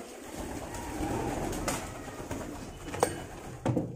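Lakha pigeons sitting on eggs in a loft coo softly and indistinctly under steady background noise, with a few faint, brief sounds toward the end.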